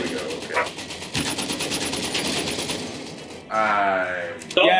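Gunfire in the VR shooter Medal of Honor: Above and Beyond crackles in rapid bursts, loud and close, with shouted voices and game noise in between.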